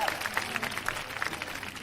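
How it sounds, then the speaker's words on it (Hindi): Audience applause at a live Hindi comedy show, a steady dense clapping from a crowd with scattered voices and whoops, moderately loud and continuous throughout. "तालियां तालियां तालियां।"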